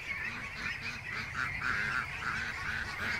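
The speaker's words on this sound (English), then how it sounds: "the ducks are out" Domestic ducks honk and call as they run out with wings spread, a busy chorus of overlapping nasal honks at moderate distance, steady and fairly faint throughout.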